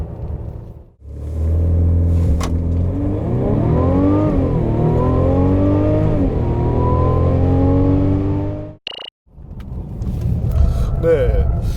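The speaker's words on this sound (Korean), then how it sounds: "이 350 포매틱 AMG 라인 과연 어떤 가속 성능을 보여주는지 한번 볼까요?" Mercedes-Benz 350 4MATIC AMG Line accelerating hard, a loud steady engine roar rising in pitch through several gear steps over about eight seconds, then a brief break and a quieter rumble afterward.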